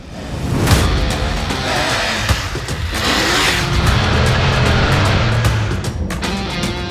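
A 2022 Triumph Tiger 1200 Rally Pro or GT Pro motorcycle is ridden on the road, with a continuous engine drone and rushing wind noise from up close, no talk heard.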